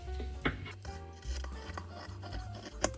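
Scissors snip through fabric while a kameez sleeve pattern is cut, a few close, crisp cuts with faint rustling of cloth between them.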